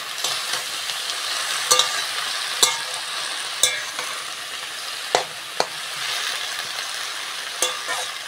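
Leafy greens and fried onion cooking in a pan give a steady, close hiss of sizzling oil, broken by a few sharp clicks and taps of a utensil against the pan.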